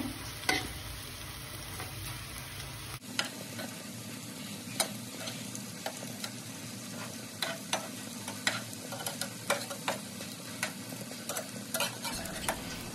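Pumpkin-leaf-wrapped bele fish fritters sizzle steadily in a hot pan, dense crackling with frequent sharp pops close up, the opening seconds noisier before the frying settles.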